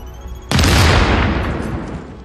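A single loud booming grenade explosion in The Division erupts suddenly after a brief quiet, then rumbles and decays over the following second.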